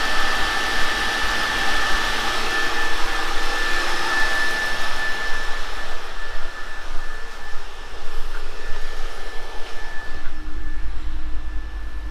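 An Audi 80's custom radiator cooling fan pushes air in a constant loud rushing roar, easing slightly toward the end, with no voices over it.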